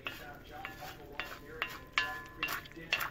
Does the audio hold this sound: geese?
no